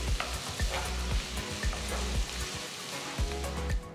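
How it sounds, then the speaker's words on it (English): Chopped carrots and green peas sizzle steadily in a hot pan, with a continuous crackling fry and soft repeated stirring scrapes, close and moderately loud with no voices. "Saute the vegetables for a few minutes."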